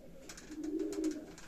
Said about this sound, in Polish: Tu są gołąbki, parę gołębi, są też młode.